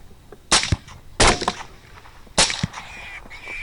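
Rifle shots ring out at hogs across a North Texas field seen from a hilltop, with three sharp, fairly distant cracks spaced about a second apart, each trailing off in a brief echo.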